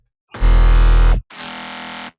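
Two sustained chords from a Vital software synthesizer patch, rich and buzzy: a loud one holding about a second, a brief break, then a quieter, brighter chord held slightly longer.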